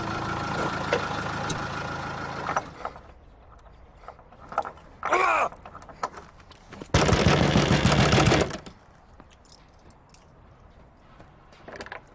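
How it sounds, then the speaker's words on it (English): Loud, rapid banging on a door in a television drama, a dense burst of heavy knocks lasting a second or two between quieter household noises. "What are you banging on the door like that for?"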